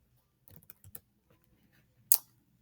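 Light keystrokes on a computer keyboard: a brief cluster of soft clicks, then a pause and one sharper, louder tap, all faint and close with no talking.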